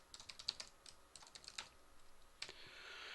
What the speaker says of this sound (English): this is a pain to type